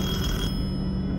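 Old rotary dial telephone in the horror game Detention ringing with a loud, harsh bell burst that cuts off midway, leaving a dull low hum.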